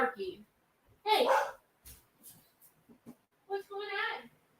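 A dog barks in a few short bursts, close by, with brief gaps between them.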